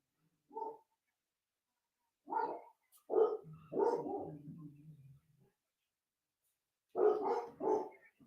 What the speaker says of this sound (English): dogs are losing their mind upstairs